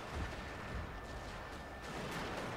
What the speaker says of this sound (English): We're shooting down on all these guys that are trying to climb.